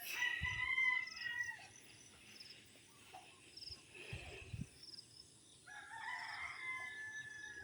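A rooster crows loudly nearby as chickens cluck around it, against a faint background of chirping insects.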